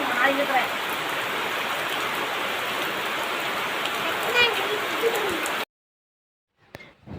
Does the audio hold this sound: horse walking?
no